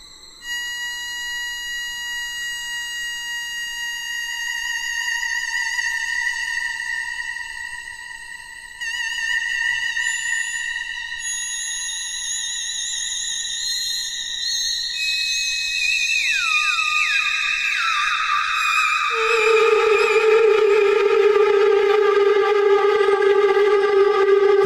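Steady electronic tones from a Behringer synthesizer as knobs are turned, multiple sustained pitches that slowly slide, bend and brighten, swelling louder toward the end as the timbre shifts.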